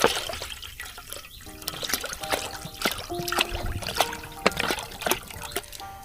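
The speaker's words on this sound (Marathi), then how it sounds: "आपण ठेवतोय आपला टोप आणि याच्यामध्ये टाकूया मस्त पाणी" Water pours and trickles into a metal pot, with small clinks and splashes throughout at close range.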